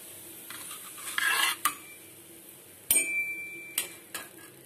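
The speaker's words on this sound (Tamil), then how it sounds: "இப்போ நம்ம தோசை எடுத்துடலாம்" Metal spatula scraping and clinking against a dosa pan as a potato dosa is lifted off, a few sharp scrapes and taps over a quiet kitchen background.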